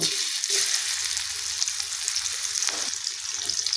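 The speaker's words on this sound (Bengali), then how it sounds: "তেলের মধ্যে আমি রসুন ফোড়ন দিয়ে দিব" Garlic tempered in hot oil for a traditional Bengali dish, a close, even sizzle and crackle that holds steady throughout with a few faint stirring touches, no voices.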